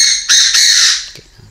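A young dove gives a loud, close, harsh squawk that lasts most of a second, followed by a faint softer rustle and stillness.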